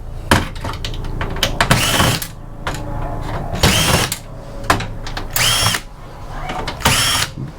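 A power driver runs in repeated bursts while removing Torx screws from the motherboard of a basic PC being scrapped, the motor whine rising and stopping several times alongside clicks and handling noise, close and fairly loud.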